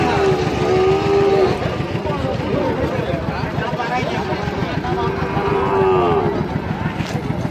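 A cross-breed bull at a large cattle market in Bangladesh moos twice in long, drawn-out calls, loud and close, over busy crowd chatter and passing engine noise.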